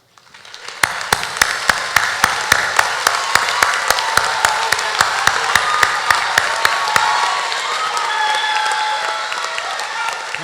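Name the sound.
applause for graduating honors students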